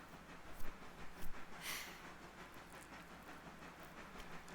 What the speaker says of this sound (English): the trains are chugging.